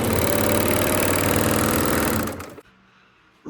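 A serger sewing machine runs steadily and loud at close range, stitching binding along a fabric edge, then stops abruptly, leaving quiet before a brief bump.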